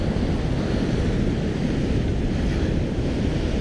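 Sea waves surging as white water around coastal rocks, a dense continuous roar of surf with wind buffeting the microphone, close and loud throughout.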